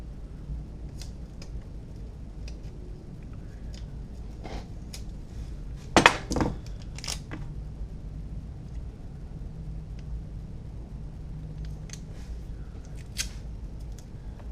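Scissors snip through material during an airsoft torque motor build, with a brief cluster of crisp cuts near the middle against a quiet workbench background.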